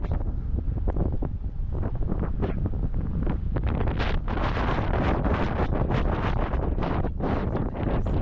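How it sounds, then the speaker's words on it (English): Strong, gusting wind on a sandy spit in New Zealand roars across the microphone, buffeting continuously with rushing bursts that rise and fall throughout. "It was incredibly windy on the Spit."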